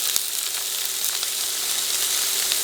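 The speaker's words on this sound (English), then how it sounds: "I'm gonna start sauteing these onions" Onions sautéing in a hot pan for cheeseburger sliders make a dense, steady sizzle with small crackling pops scattered throughout, close and continuous, with no voices.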